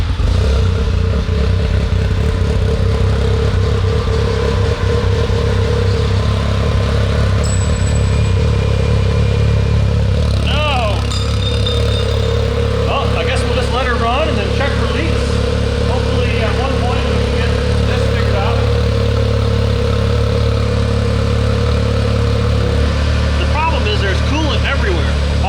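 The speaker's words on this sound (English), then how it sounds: "I think you can start the car right now." A Can-Am Maverick X3 side-by-side engine fires up and settles into a steady, loud idle, running continuously with a slight rattle while people talk nearby.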